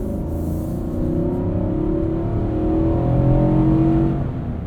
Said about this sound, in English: Show you guys a little acceleration here.